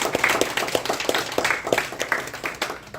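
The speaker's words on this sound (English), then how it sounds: "All right, everyone give a huge round of applause to me." Audience applause fills a community safety meeting, a dense, steady spread of many hands clapping at moderate loudness for a few seconds with no one speaking over it.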